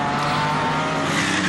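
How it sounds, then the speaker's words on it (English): Aston Martin GT3 race car locking its brakes at Jarama, a sustained loud tyre squeal over engine roar, continuous and close throughout. "a lock-up by the Aston Martin there"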